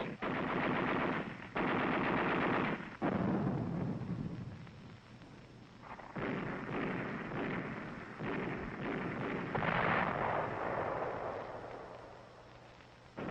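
Sustained automatic weapons and machine gun fire in a 1945 Okinawa battle, loud dense bursts with short pauses that roll continuously, heavy rumbling reports like distant artillery mixed in.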